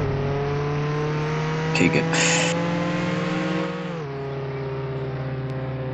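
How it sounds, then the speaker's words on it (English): A car engine in the Roblox game Jailbreak holds a loud steady drone with a stable pitch, dropping lower near the end, while a person speaks briefly over it. "the cars are so loud"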